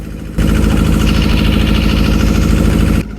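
Fishing trawler engine on a deep-sea trip off the Sundarbans, a steady loud mid-to-low diesel drone with a fast chugging pulse, starting abruptly and cutting off near the end.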